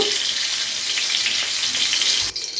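Papaya and yardlong beans frying together in hot oil, a loud, continuous close-up sizzle that holds steady and then drops away abruptly near the end, with no voices.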